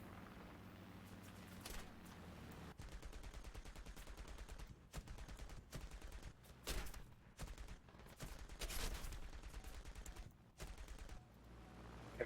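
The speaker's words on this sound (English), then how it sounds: "Kept shooting behind him." War Thunder gunfire, rapid bursts of automatic shots with sharp single cracks scattered through, fairly close and steady over a low rumbling battle background.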